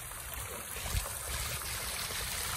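Dirty water flushes out of a koi pond during cleaning, a steady rushing, gurgling flow that stays loud and close throughout, with no voices over it.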